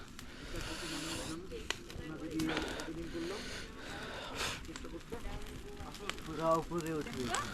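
Fire crackling and roaring in strong wind near Jhandi, Kalimpong, with gusty rushing noise, bursts of hiss and pops, while voices talk nearby.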